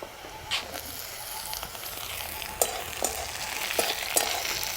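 Garlic and onion fry in a pan for egg tarka, giving a dense continuous sizzle with light stirring scrapes and ticks throughout and no voices.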